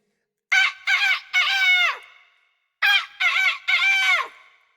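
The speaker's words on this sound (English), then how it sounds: "At 9 o'clock, Ooster crowed again and again." A rooster crows repeatedly, two clear bursts of three-part cock-a-doodle-doo calls separated by a short pause, loud and close with nothing else around.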